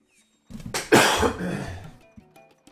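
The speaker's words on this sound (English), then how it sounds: "you can hear my coughing because I'm still sick." A person coughs close by, a short cluster of harsh, throaty coughs that trails off into quiet breathing.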